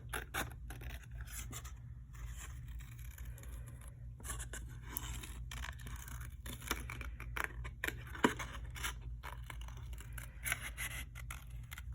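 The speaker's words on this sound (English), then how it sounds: "I'm going to go ahead and cut out my second cloud." Scissors snip steadily through paper, cutting out a cloud shape in a quiet room, with dense repeated cutting strokes and a few sharper clicks and no voices.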